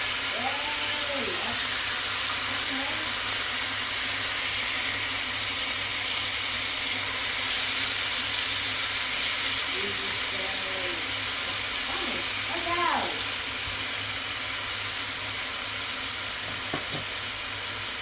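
Beef steak frying in a pan, a constant close hissing sizzle running the whole time, with a few faint chirpy squeaks in the background and no talk.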